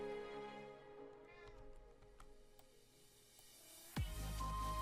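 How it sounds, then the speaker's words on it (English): A cat meows in a room, faint tonal calls drawn out under a steady background hum, with a sharper, louder sound near the end. "Why are you meowing?"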